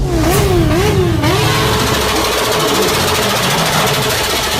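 An RC 200 motorcycle engine cranks and catches, sweeping up and down in pitch while it revs, then settles into a loud, steady, close-up idle with no voices.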